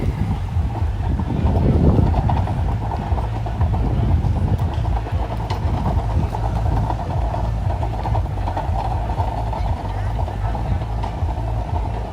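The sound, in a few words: wind blowing at a beach club in Bimini, Bahamas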